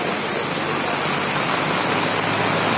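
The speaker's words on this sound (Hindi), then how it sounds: "ये देख सकते हैं आप, ये देखिए कितना पानी आ रहा है।" Heavy floodwater rushes past near the Shri Ganda Mata temple after torrential rain, carrying debris toward a village; a steady, loud, broadband roar fills the whole stretch without a break.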